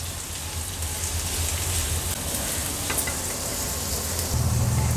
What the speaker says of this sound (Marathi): कांदा थोडा तेलावर परतून घ्यायचे आपल्याला।